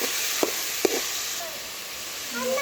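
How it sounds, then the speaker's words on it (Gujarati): A spoon stirs cabbage and tomatoes in a cooking pot, giving two brief scraping knocks over a steady sizzle and hiss of frying. "જો હલાવીને એને પાછું ઢાંકી દેવાનું"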